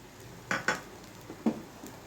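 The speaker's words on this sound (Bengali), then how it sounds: "দিয়ে দিব আড়াইশো গ্রামের মতো চিনি" Sugar poured onto two grated coconuts in a pan while making Gopal laddu naru: a few short, close clinks and scrapes of utensils against the pan, with quiet pauses in between and no talking.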